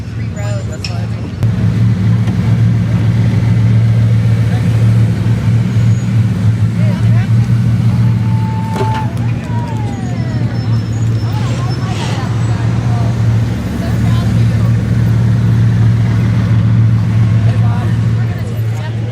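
A Bugatti supercar making a grand arrival at Car Week, its engine holding a loud, steady low drone close by while people talk over it.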